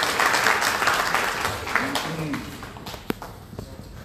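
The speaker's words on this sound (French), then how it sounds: "sous vos applaudissements, s'il vous plaît" Applause from an audience at a ceremony in Senegal, fairly dense at first and thinning out over the seconds, with voices and scattered claps and knocks as it dies away.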